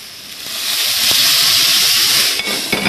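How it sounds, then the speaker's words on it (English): Aubergine hits a very hot pan with a little water instead of oil, giving a loud, steady steaming hiss and sizzle that swells and holds close by for a few seconds. "Let it steam for 2 minutes."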